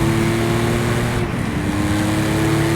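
A 1973 Porsche Carrera RS engine pulls hard in third gear from around 3,000 rpm, giving a loud, steady, rising drone from close by with no talk over it.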